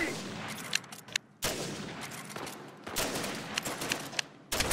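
Gunfire in the multiplayer game Uncharted 4: A Thief's End, with sniper rifle shots among loud close bursts and sharp cracks broken by brief gaps.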